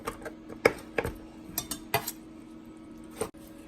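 A kitchen knife chops artichoke hearts, making quiet, scattered taps and light clinks on a board with uneven spacing and short pauses.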